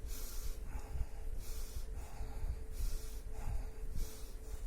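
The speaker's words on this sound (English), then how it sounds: "Inhale, exhale." Slow deep breathing in a relaxation exercise, with audible inhales and exhales alternating in a steady rhythm of about four full breaths, close and airy with a faint hum underneath.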